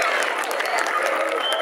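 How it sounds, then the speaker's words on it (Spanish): Brief, steady clapping from a crowd welcoming a ninth-grade group's parade at a school presentation, dense and fairly close, filling the whole short moment. "Muy bien, recibámosle con un fuerte aplauso."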